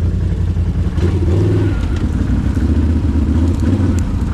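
A Renegade ATV's engine roars continuously close up while wading through water, holding a steady loud drone with a rising rev near the middle and a rough, churning texture throughout.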